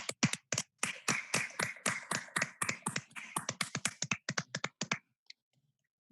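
Board of trustees members clap together over open microphones in an online meeting, a ragged run of sharp, close claps for about five seconds, then stopping with a couple of last stray taps.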